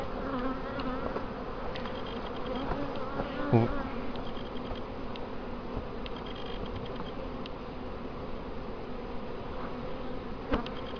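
Honey bees buzz steadily around a beehive, a dense continuous hum of many wings close by with a few louder passes, and no talk.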